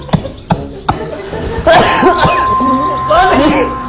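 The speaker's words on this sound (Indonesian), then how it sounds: "Batuknya dulu." Several hard, close coughs come in a rough rhythm, followed by a longer raspy bout of coughing and throat clearing, loud and near, with some speech-like sounds mixed in.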